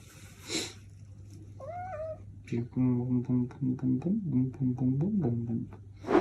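A cat meows in a video played back on screen: one short, rising meow, then a longer run of wavering, drawn-out cries over a steady low hum.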